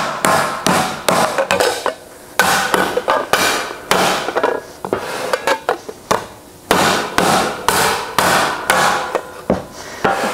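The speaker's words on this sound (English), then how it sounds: "let's go ahead and hammer out that tuck." Repeated sharp metallic hammer blows on sheet metal shaped against a rubber tire, in quick irregular bursts with short pauses, loud and close, no speech.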